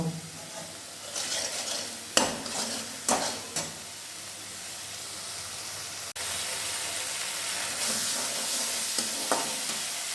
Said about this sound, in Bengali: হলুদ দেব। এবারে এটাকে খুব ভালো করে কষিয়ে নেব।